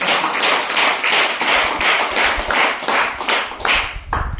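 A church congregation claps in a steady, rhythmic beat during a Christian sermon, the loud, even claps repeating about twice a second with no talking over them.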